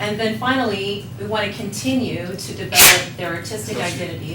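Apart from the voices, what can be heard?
sneeze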